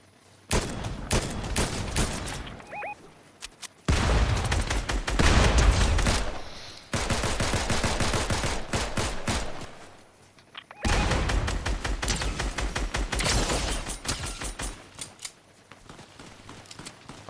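Rapid automatic assault-rifle fire in a shooter game: loud, dense bursts several seconds long, broken by brief pauses and a quieter stretch, with sharp cracking reports close up.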